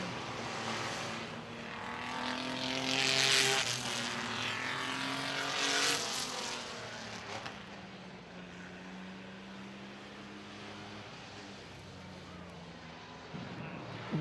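Mini trucks race around the dirt oval at Midvale Speedway in a feature event, engines droning and swelling as they pass, loudest early on, under a steady crowd and track din.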